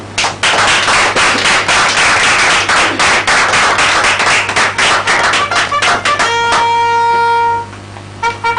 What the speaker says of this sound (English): Let's all rise up and give a round of applause.